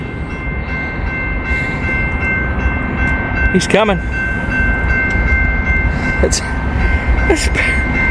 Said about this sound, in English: Got another CSX train.